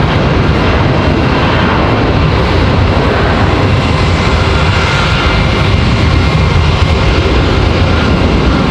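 A JetBlue jet airliner departs Raleigh-Durham International, its engines producing a loud, steady broadband roar that fills the whole stretch without letup, with no voices over it.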